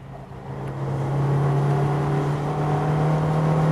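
Toyota Aygo Crazy rally car on a dry road: a steady, droning engine note rising slightly as it pulls away, close and loud with a constant hum and no talking.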